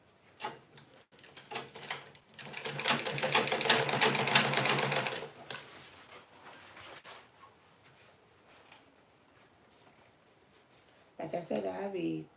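A sewing machine stitches a fabric turban band in a steady, rapid, mid-loud run lasting a few seconds, with softer handling noises after and speech near the end.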